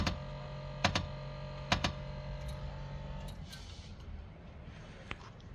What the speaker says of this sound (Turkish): Şu anda el frenine yükleniyor. Bu sesler ondan geliyor.